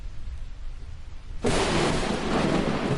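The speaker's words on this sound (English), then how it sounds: "you see just a bolt of lightning just strikes the house" Thunder effect for a lightning bolt striking a house in a Call of Cthulhu horror game session: after a quiet stretch of low rumble, a loud broadband crack bursts in and rolls on as a sustained, roaring thunder wash.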